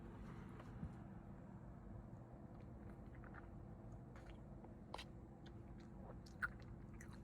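Quiet chewing of a mostly chocolate treat during a taste test, faint crunches and bites over a low steady hum, with a few sharper clicks and no speech.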